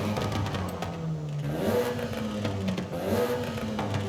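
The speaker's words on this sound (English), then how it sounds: "Race exhaust actually makes it sound better." A new Hyundai hot hatch with race exhaust in a video game revs and rises in pitch twice, a throaty exhaust droning steadily throughout with no talking.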